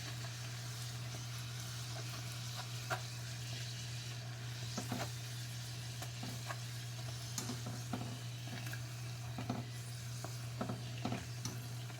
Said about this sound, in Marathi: तेल जरा सोडलं की फुगतात परत हे असं उलटी पालटी करून भाजून घ्यायचे